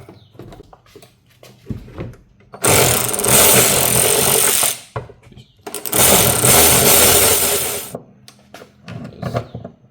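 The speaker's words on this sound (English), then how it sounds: "let's remove these 4 bolts here. It's for the center bearing." A pneumatic impact wrench spins off the center bearing bolts on a Volkswagen R36, two loud, close bursts of steady whirring each lasting about two seconds, separated by quieter clinking of tools and shuffling.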